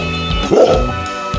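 A dog lets out a short, close bark or yip, a single loud burst with no one speaking over it.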